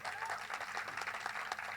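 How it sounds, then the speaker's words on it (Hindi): Audience applause welcoming a speaker at a talk with an IPS police officer, a steady dense patter of many hands clapping at moderate distance, fairly quiet and continuous, with a few sharper claps standing out. "तालियों के साथ स्वागत करिए"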